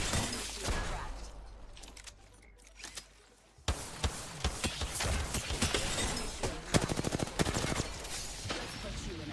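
Gunfire in Apex Legends during a battle royale firefight: a quieter stretch of distant shots gives way to rapid, sharp bursts of close automatic fire, with a voice speaking over the action.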